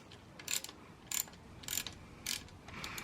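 Ratcheting and clicking from an Allen key turning a 2.5 mm breaker bolt on a Sur Ron Light Bee electric bike: four short bright bursts spaced about half a second apart, close and fairly quiet, with no talking.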